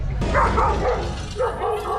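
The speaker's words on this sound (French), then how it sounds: "Les chiens n'est pas très contents" Dogs bark and yip in short, agitated bursts somewhere nearby at a rainy car show, mixed with a steady background rumble and some talking.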